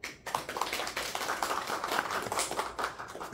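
A group applauding at a city government press briefing, dense clapping from many hands that holds steady throughout, filling the room without speech.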